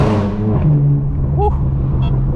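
A straight-piped BMW M4 F82 with a DCT gearbox, engine droning loud and close with a falling pitch as it shifts, followed by brief pops and crackles from the exhaust, a voice chiming in.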